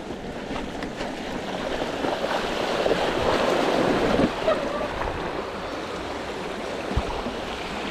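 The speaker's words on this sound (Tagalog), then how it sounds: "Malakas ang agos." Strong river current at a river crossing on the Tanay challenge route: continuous rushing water with wind noise, a broad steady roar that swells in the middle and eases off, with no voices.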